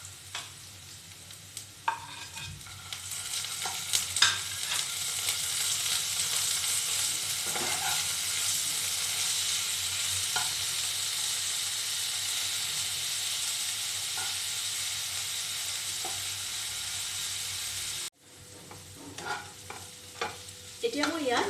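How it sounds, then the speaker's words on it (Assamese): Sliced onions frying in a pan for an egg curry, a loud continuous sizzle and hiss with intermittent stirring scrapes, briefly cut off near the end before resuming. "এতিয়া মই বাকী পিচি থোৱা পিঁয়াজখিনি দি দিম।"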